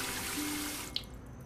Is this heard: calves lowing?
no